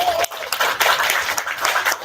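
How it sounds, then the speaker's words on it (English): An audience at an evening book event gives a round of applause, the claps dense and even, with a voice heard briefly at the start. "Give a round of applause,"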